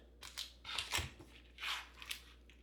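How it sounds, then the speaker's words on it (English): Sausage being cut on a board, heard as several short crisp crunching slices spaced irregularly, fairly quiet and close, with no talk. "Next, we're going to cut up the sausage."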